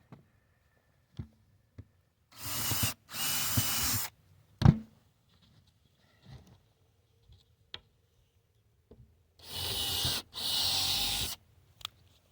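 Cordless drill driving zinc-coated screws into the top of a septic tank riser built from old tires, heard as two pairs of close, loud whirring bursts separated by quiet handling clicks and taps.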